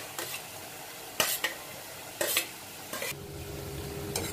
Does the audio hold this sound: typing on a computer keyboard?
no